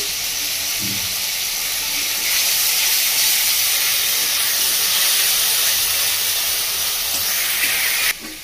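Ginger paste hits a pan with softened tomatoes and sets off a loud, steady hiss of frying that holds evenly for several seconds, then drops sharply at the end.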